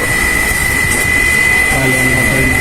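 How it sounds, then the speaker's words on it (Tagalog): Dirty air conditioner blower fan motor giving a steady, piercing high-pitched whine that runs without a break under a constant broadband hum. "Yung matining na ingay na yan, galing sa pan motor."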